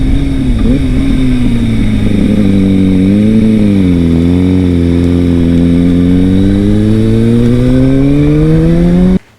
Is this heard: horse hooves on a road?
no